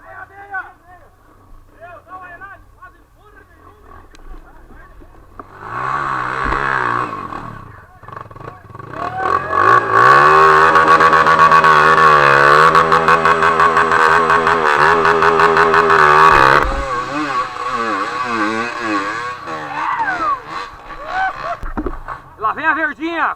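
Green 450 dirt bike on a muddy, rainy trail in Imbituva, engine rising to a loud, sustained roar as it climbs, then easing off, with people talking and shouting around it.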